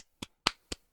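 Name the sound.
hands clapping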